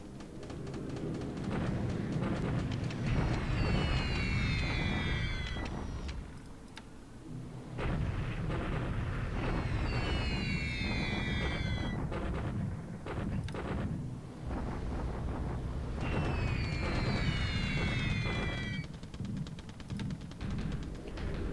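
Airstrikes in the wargame War in the Pacific, with three waves of descending whistles over dense, rumbling blasts, each burst lasting several seconds before a short lull.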